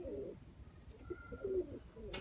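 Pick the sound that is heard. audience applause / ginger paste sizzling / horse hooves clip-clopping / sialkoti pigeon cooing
sialkoti pigeon cooing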